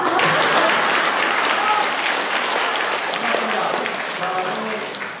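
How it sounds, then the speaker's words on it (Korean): Parishioners at a Sunday Easter-season Mass clap to welcome a newcomer, a full, even round of congregational applause that slowly fades, with voices talking underneath. "아, 그럼 박수 해도 되겠다"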